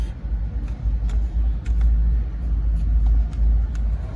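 A Mercedes GLE 63 S AMG idles with its engine and exhaust running, a deep, even low rumble that holds steady close by, broken by a few faint ticks and clicks.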